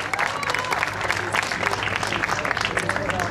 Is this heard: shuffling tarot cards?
no